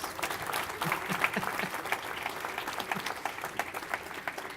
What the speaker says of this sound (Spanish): Un aplauso, por favor, para nuestros invitados.